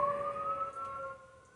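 Outside, a fire truck or ambulance siren wails in a steady sustained tone, moderately distant and fading slightly toward the end, heard alone without talk.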